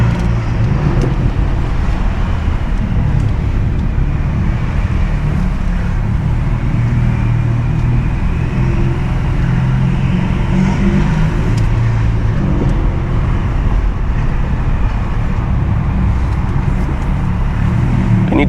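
A 2016 BMW 328i with a stage 2+ tune and loud straight-pipe exhaust drones steadily from inside the cabin while cruising, a constant low rumble with road noise and no clear revving.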